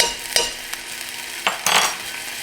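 Clove of garlic sizzling in a hot pan as a utensil stirs and scrapes it, with steady close frying hiss broken by several sharp clinks and scrapes.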